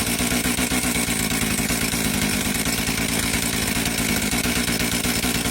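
A chainsaw engine runs on nitromethane fuel, buzzing loudly and close with a rapid, even firing rhythm and a rattling clatter throughout.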